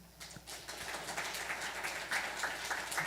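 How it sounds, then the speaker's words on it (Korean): A church congregation applauding during a Sunday service, a dense, steady patter of clapping sustained for a few seconds. "우리 먼저 잠깐 격려의 박수 할까요?"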